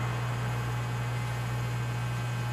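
An electric fan runs steadily while drying a handmade fruit and vegetable crate, giving a constant low hum with a faint hiss and no change in level throughout.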